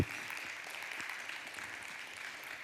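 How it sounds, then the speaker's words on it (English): Faint, distant applause from a conference audience at a strategic communications summit. It sounds like a soft, even patter of many hands that holds steady for a few seconds. "So a moment to applaud all the women in the room."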